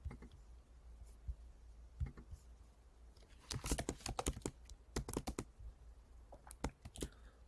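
Fast typing on a computer keyboard while entering a math expression. After a few scattered taps, a dense run of crisp key clicks comes in uneven bursts, close up and alone over a low background hum.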